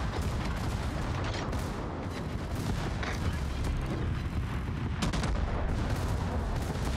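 Secondary battery guns of a warship in World of Warships fire in a dense, continuous barrage of loud, overlapping booms and cracks lasting throughout.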